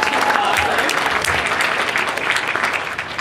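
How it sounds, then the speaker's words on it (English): Loud, dense applause from the crowd at a DC tech meetup, a continuous wash of many hands clapping together that holds steady throughout. "Claps, that's awesome."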